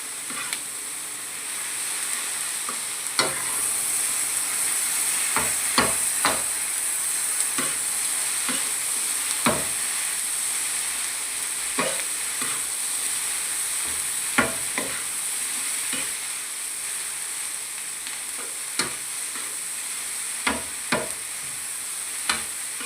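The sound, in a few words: stirring and mixing sauce with food in a frying pan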